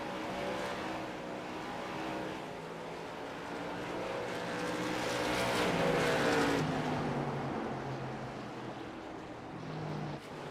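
Late model race cars at speed on an oval track at a DECAF Late Model Tour night race, engine roar swelling as the pack passes and fading again, distant and continuous with no talk.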